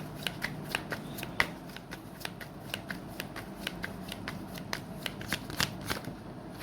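Tarot cards are shuffled and drawn in a quiet room, giving a steady series of soft, crisp riffling snaps close by, with no talking.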